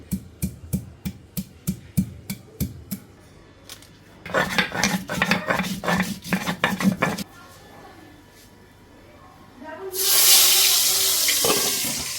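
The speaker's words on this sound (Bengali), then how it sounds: "মাছের মশলাটা একটু বেটে নিচ্ছি" Spice paste for boal fish is ground by hand, opening with a run of regular knocking strokes, then faster scraping and grinding bursts. It closes with a loud splash of running water.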